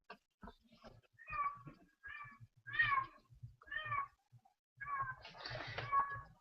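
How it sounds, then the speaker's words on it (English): A male house cat meows and whines repeatedly, a string of drawn-out, complaining cries at close range with short pauses between them, over faint background noise. "That's one of my male cats sitting there whining again."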